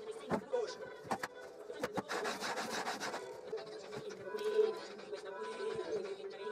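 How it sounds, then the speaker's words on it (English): Candle wax rubbed along the inner sides of a wooden spline jig built for a DeWalt DW745 table saw rip fence, giving close, repeated scraping rubs broken by sharp clicks and knocks. "I added a bit of candle wax inside the sides of the jig to help it glide on the rip fence nice and easily."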